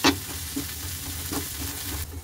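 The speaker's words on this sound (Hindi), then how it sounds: "अब अच्छे से मसाले मिला लेंगे।" Spices such as red chilli, coriander powder, amchur, salt and a pinch of hing stirred and fried in a pan for aloo patties, a steady sizzle with a few sharp scraping stirs, fairly close and with no talk.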